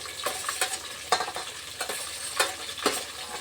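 Vegetables for sambar, including green chilies, tomato, carrot, eggplant and okra, stirred in a pot with a utensil: several distinct scraping strokes against soft sizzling, close and moderately loud, no talking.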